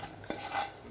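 A brief metal spoon scraping and clinking against a pan as egg curry is stirred, quiet and close, with no talking.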